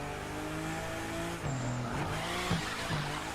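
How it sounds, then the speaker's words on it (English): Car drifting in The Crew 2 racing game, a steady engine drone with tires squealing and skidding through the slide, close and loud, with no talk over it. "Very good drift."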